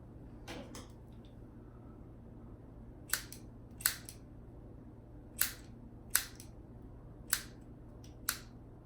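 Scissors trimming the back layer of hair, sharp crisp snips heard close up, about seven cuts spaced irregularly over several seconds in a quiet room.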